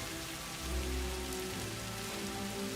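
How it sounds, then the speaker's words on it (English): Steady rain patters on a metal structure in the factory-building game Satisfactory, a soft continuous hiss of drops with faint low rumbling beneath, alone and fairly quiet throughout. "the rain hitting the metal structure sounds so nice."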